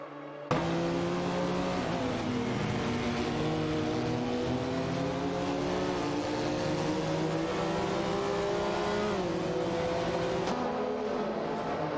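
Race cars in an AI racing video game accelerate together, a loud continuous engine drone whose tones climb steadily through the gears. It starts abruptly and stays close for the whole stretch, with no talk over it.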